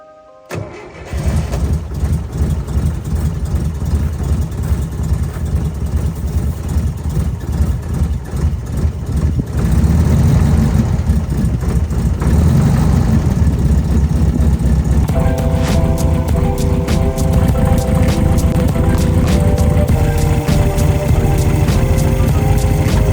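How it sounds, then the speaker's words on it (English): An abandoned 1980s gullwing-door supercar, left sitting for over a decade, cranks and fires up on its own fuel tank, then settles into a loud, steady rough idle close by, with no one talking over it. "after over a decade of abandonment, the car was running from its own fuel tank"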